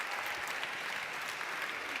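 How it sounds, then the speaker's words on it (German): Steady, fairly loud applause from a live song contest audience, a thick continuous patter of many hands with no talk over it. "Genießt es, euer Applaus."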